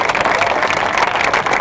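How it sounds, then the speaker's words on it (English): Crowd at an outdoor street rally in Washington, D.C. applauding, a steady dense wash of clapping and cheering close by, loud and continuous with no gaps. "Give yourselves a round of applause for coming out here despite the weather"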